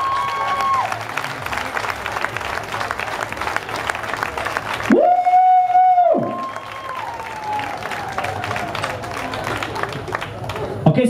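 Audience applauding and clapping in a club after a dance show, a dense steady crowd sound under a sustained tone and background music, with a brief louder swell midway.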